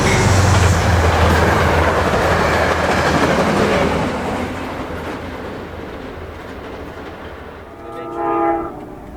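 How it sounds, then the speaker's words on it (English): A passenger train led by a CDOT Brookville BL20GH locomotive rumbles steadily past up close, fading slightly before a short horn blast near the end. "CDOT 128, a Brookville BL20GH locomotive"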